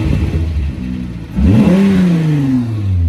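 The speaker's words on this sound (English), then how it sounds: "Okay, let me close this hood." A Volkswagen Mk3 VR6 12-valve engine revs up with the hood closed, a steady idle rising into a loud, climbing rev that holds near and strong before easing slightly, with no talk over it.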